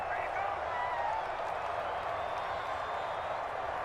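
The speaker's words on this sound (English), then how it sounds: "How about some applause for the defense there?" Steady crowd applause and cheering from a Madden NFL football video game, a continuous wash of clapping at even loudness that fills the whole stretch without a break.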